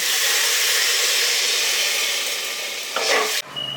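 Potatoes and water go into a hot karahi of restaurant-style chickpea curry, a loud steady sizzle and steamy hiss up close that breaks off into a brief stir and clatter near the end.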